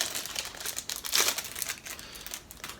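Plastic packaging crinkles and rustles as an Owlcrate book subscription box is unboxed, a quiet, close, continuous crackling with one brief louder crunch, and no talking.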